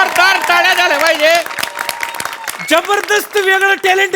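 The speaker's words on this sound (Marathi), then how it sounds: "वा जोरदार टाळ्या झाल्या पाहिजे." A comedy show audience claps in a short burst of scattered hand claps, mostly beneath a loud voice that sings and speaks before and after.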